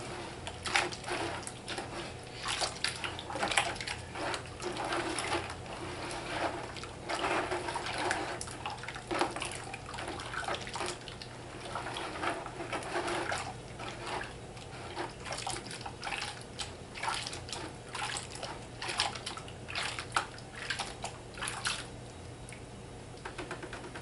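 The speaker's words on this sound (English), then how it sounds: "Keep stirring it. Make sure the sand doesn't settle." A wet mix of plaster and sand is stirred by hand for patching a foundry, making continuous sloshing, churning sounds in an uneven rhythm, close and moderately quiet, with no voices.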